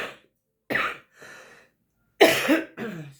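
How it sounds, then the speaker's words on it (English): A woman's late-night cough: a few separate close bursts with breathy gaps between them, loud and dry, with no talking alongside. "Sorry, guys. Late night cough."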